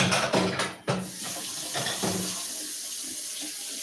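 Tap water runs into a sink while food containers are rinsed under it, starting with a few splashy bursts and then settling into a steady, close rush of flowing water with no talking.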